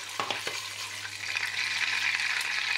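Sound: butter sizzling with red pepper flakes in a pan

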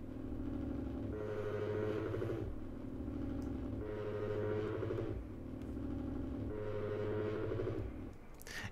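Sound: Odyssey sci-fi vibrating resonating sound effect

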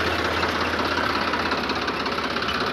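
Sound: Sonalika DI 35 tractor engine idling at about 800-900 RPM

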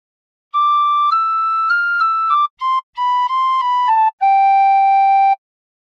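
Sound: tin whistle playing God Defend New Zealand

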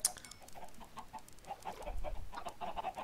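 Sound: chickens clucking in Minecraft video game

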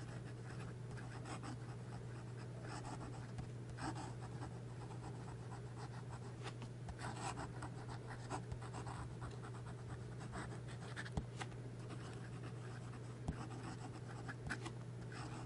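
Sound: fast writing with a fountain pen nib on paper

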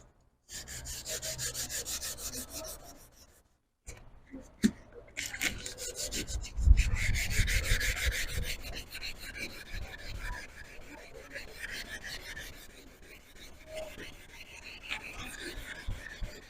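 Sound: sanding headlight with 500-grit sandpaper

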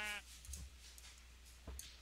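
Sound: sheep bleating in a video game

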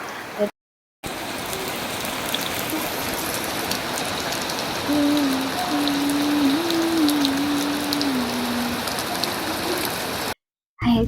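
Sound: rain falling

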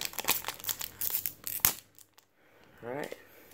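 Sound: opening a Buddyfight trading card packet

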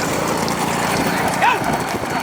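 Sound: bulls' hooves running in a bullock cart race

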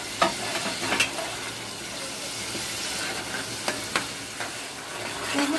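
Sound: dry spices frying and being stirred in pan

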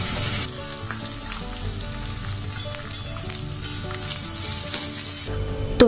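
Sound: chopped onion frying and being stirred in a pan

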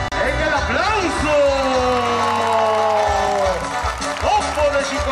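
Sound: crowd applauding and cheering at rodeo

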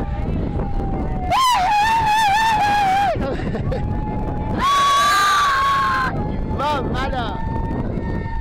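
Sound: people shouting at a bowling alley

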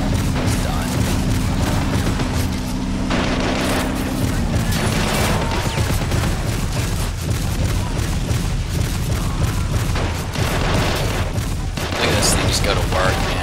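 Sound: gunfire and explosions in Men of War Assault Squad 2 video game

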